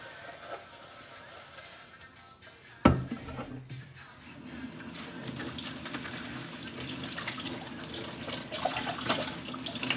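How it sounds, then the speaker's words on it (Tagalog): A kitchen tap runs into a sink while dishes are washed. There is a sharp clatter near the start, then a steady stream of water splashing nearby, with some background noise. "Naghuhugas pa ako ng plato."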